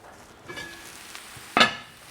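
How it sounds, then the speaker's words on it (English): Spatula stirring and flipping roasted poblano brisket hash in a hot pan, a soft steady sizzle with scraping strokes and one sharper clatter near the end, close and without talking. "Now we're just gonna stir this up,"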